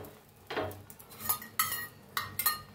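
A spoon clinks against a bowl while egg is stirred for a bread omelette, giving a few quick, fairly faint metallic taps and scrapes.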